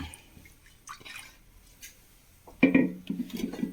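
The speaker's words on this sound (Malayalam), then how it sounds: "നമുക്ക് കുറച്ച് വെള്ളം ഒഴിച്ച് കൊടുത്ത്" Water poured into a pressure cooker holding washed lentils for a simple curry, a few faint drips first, then a louder, close gurgling pour that keeps going for the final second, with no talk.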